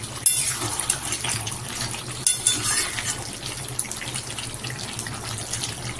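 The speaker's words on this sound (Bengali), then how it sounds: "এবার একটু জল দিয়ে আর একটুখানি ভালো করে ফুটিয়ে নিলে রেডি হয়ে যাবে" Water pours into a pot of cooked chicken curry, a steady splashing gush with a sharp start and a second burst midway, close by and fairly loud, with no one talking.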